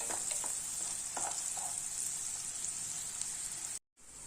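Sliced onions sauté in a pan, turning light golden, with a steady close hiss of frying and a few soft stirring clicks, ending in a brief silence.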